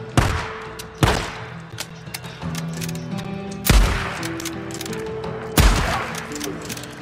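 Gunfire in the video game Days Gone: four heavy, loud gunshot bursts with booming low ends, spaced a second or two apart, with quieter clatter and game ambience between them.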